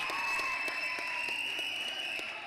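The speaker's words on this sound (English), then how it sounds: "And Kaushal just hits a shot that gets the crowd roaring" A crowd at an APL 2026 match between Vijayawada Sun Shiners and Vizag Sea Hawks applauds after a shot, a dense steady wash of clapping and cheering throughout.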